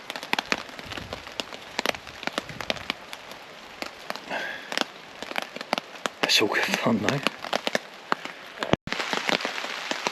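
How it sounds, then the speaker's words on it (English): Wind-driven rain batters a camping tarp during Storm Floris, with sharp irregular drops and gusty rustling close by, while someone speaks briefly over the noise. "Every time I settle down, the wind churns and just chucks it straight in at the tarp."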